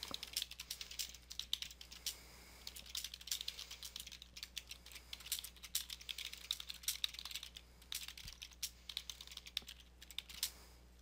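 Rapid, continuous typing on a computer keyboard, keys clicking in quick irregular bursts, close and fairly quiet, with no voices.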